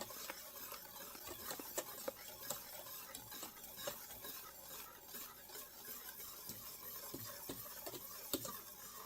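A spoon stirs a homemade chocolate pudding mixture in a bowl, giving soft, steady scraping and swishing strokes with light clinks, close and quiet, with no talk.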